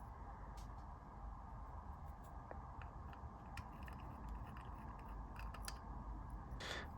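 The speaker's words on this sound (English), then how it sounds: "I've got a little hex T5 star, and it should loosen up even by hand" A small T5 star driver loosens tiny screws on a Shure UR2 wireless microphone transmitter, giving faint, sparse close-up ticks and light mechanical clicks over a quiet background.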